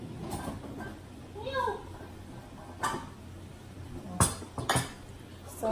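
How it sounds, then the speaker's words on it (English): Dishes and cutlery being put away after washing in a home kitchen, with several sharp clinks and clatters of plates and silverware spaced through the stretch and a few brief voice sounds in between. "So I guess I'm putting away the dishes too after washing them."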